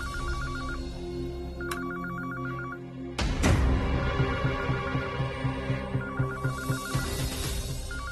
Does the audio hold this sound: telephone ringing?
yes